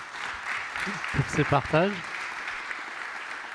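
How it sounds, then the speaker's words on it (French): An audience at a talk on energy-transition careers applauds the speakers, steady clapping running throughout while a voice speaks briefly over it. "On peut vous applaudir tout de suite"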